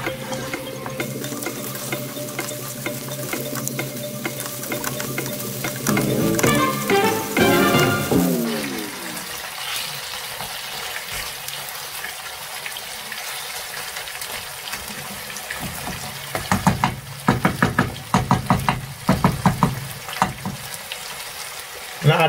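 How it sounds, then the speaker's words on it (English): Lamb chops in masala frying on a high flame while being stirred, a steady sizzle with scraping and clinking of the spoon against the pot, a brief tap-water pour partway through. "we're going to cook it on a high flame for 5-10 minutes and keep stirring it at the same time"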